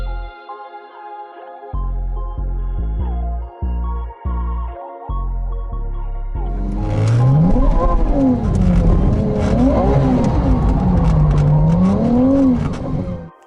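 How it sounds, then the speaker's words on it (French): A Ferrari 296 GTB V6 blips its throttle in sharp, stuttering bursts, then builds into a loud, sustained engine note that rises and falls in pitch as it revs and shifts. "Le petit V6 Ferrari, absolument incroyable."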